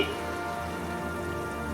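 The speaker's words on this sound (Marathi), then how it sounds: "आज सुद्धा पाऊस पडत होता" Steady rain falling in a rural field setting, a continuous even patter of drops with no breaks, moderately loud and unaccompanied by any voice.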